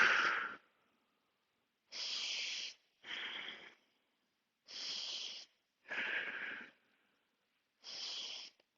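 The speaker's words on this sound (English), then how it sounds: "Inhaling to come up, exhaling to come down, always." Six deep, slow breaths during yoga shoulder circles, each a breathy rush lasting about half a second to a second, separated by silent gaps, close and clearly heard with no talking.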